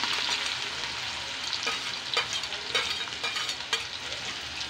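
Green chillies and onion crackle in hot oil with a steady sizzle, broken by several sharp scraping stirs of a spatula across the pan.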